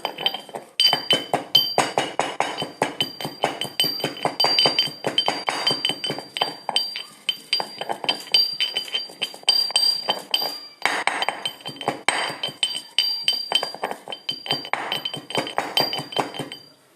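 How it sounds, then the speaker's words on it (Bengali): Spices pounded in a metal mortar and pestle, a rapid run of sharp ringing clinks and knocks, close and fairly loud, continuing steadily with a brief pause partway through, no voices. "মশলাগুলোকে এবার আমি একটা হামানদিস্তার মধ্যে নিয়ে এইভাবে গুঁড়ো করে নেব একটু"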